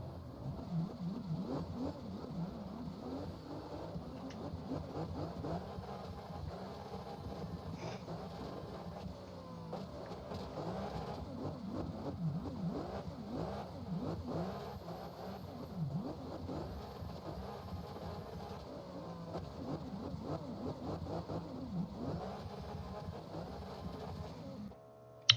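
A car engine in the CarX Drift Racing Online 2 video game revs and drones steadily throughout a drift chase, rising and falling in pitch with a constant tire hiss, no talking.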